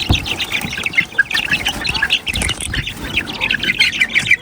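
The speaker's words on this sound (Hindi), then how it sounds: "मुर्गी को निकालती हूँ बाहर, इसने निकाल से मुझे ठूंगे मारने।" A hen squawks and clucks loudly up close in agitated, irregular bursts, with a few sharp cries.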